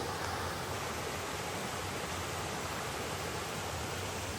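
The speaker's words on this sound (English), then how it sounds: "Up that way, nice little waterfall." A small waterfall along a wilderness stretch of the Appalachian Trail, a steady broadband rushing roar of falling water, constant and unbroken throughout with no talk.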